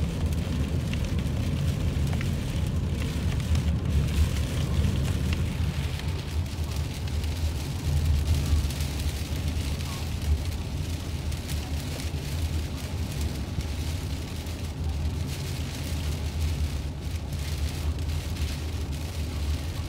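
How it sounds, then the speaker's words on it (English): Heavy rain pours during a severe thunderstorm in Mesquite, Nevada, a dense, steady roar of downpour that stays loud and unbroken for the whole stretch, with no distinct thunderclaps standing out. "Wow, it's raining hard now."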